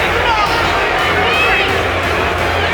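Boxing arena crowd at the Butterbean versus Larry Holmes fight, a steady dense hubbub of murmuring and shouting voices filling the space, loud and continuous throughout.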